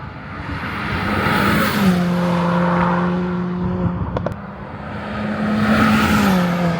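A 320 BHP Stage 3 big-turbo Ford Fiesta ST driven on a B road, loud engine note rising and falling through gear changes, with a couple of sharp clicks midway before the engine climbs again.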